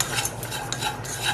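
Roasted grated coconut with coriander and chilli powder is stirred in a hot pan, a continuous close scraping and rustle of the spoon with a faint sizzle underneath.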